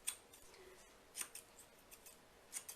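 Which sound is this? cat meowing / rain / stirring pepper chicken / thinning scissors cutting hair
thinning scissors cutting hair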